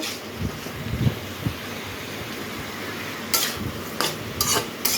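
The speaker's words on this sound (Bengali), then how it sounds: "খুব ভালোভাবে মিশিয়ে খুব ভালোভাবে আমি কষিয়ে নেব নাড়াচাড়া দিয়ে" Fried taro and potato pieces stirred with spices in a pan, a spoon giving soft intermittent scrapes and sharper clatters near the end, close and unaccompanied by voices.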